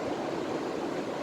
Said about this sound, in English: But you can hear the waves, can't you?